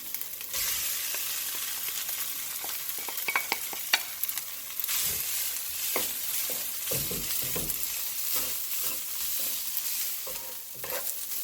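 Rice and garlic stir-fry over high heat in a pan for shrimp fried rice, with a bright, constant sizzle broken by frequent scraping and tossing clatter from the stirring utensil.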